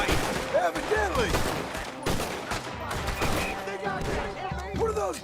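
Gunfire rings out in a Red Dead Redemption 2 fight, with broadband cracks scattered across a dense battle mix alongside voices, music and other game sounds, so individual shots blur into the busy scene.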